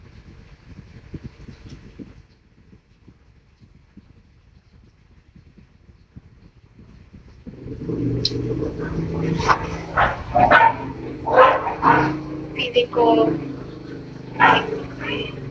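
Dogs barking repeatedly at a distance in short bursts, mixed with a person talking, after a stretch of low background hum.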